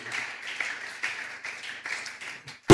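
A church congregation clapping together in rhythm to acclaim the Lord, a steady moderately loud patter of many hands, with a sharp thump at the end.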